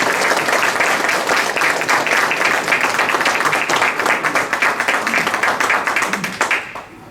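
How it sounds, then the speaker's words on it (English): An audience at a gubernatorial campaign event for Dr. Scott Jensen gives the panelists loud, sustained applause, many hands clapping densely for about seven seconds before it tapers off at the end. "let's get another loud applause for all of our panelists"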